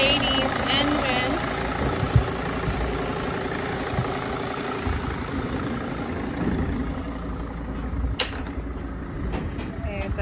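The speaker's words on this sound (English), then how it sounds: "With a six cylinder Mercedes engine." A 2006 Dodge Sprinter 2500's six-cylinder Mercedes engine idles steadily with a low, even rumble and slight vibration throughout, with a few faint clicks near the end.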